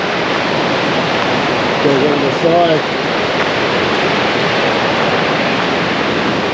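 A waterfall somewhere along a rusty old train track in Seddonville roars as a steady broadband rush, filling the whole clip at an even level while someone says a few words over it.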